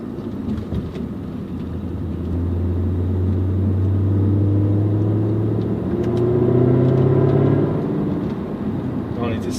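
Jaguar XK RS engine revving at low rpm, a deep rising and falling exhaust note that swells over several seconds, near and loud, with a faint voice in the background.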